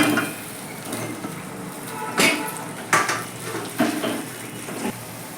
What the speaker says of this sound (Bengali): চিনির রসটাকে ফুটিয়ে নিয়েছি এবার আমি আস্তে আস্তে আমগুলোকে ছেড়ে দিচ্ছি